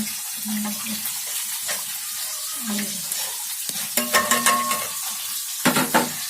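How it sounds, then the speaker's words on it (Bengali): Fish frying in a pan while a dal is cooked with mango nearby, giving a steady close sizzle with scraping stirs and a few sharper clatters, under faint background noise. "মাছটা ভেজে নিতেছি এখানে"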